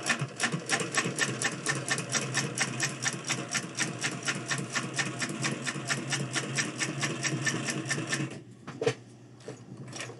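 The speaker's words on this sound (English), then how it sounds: "being fed underneath the double needle machine, the top stitch, all the seams" A double needle sewing machine runs steadily and loudly, topstitching half-inch bias tape onto a hat in a shop, its rapid rhythmic stitching continuous for about eight seconds before stopping with a clunk and some quieter handling noise.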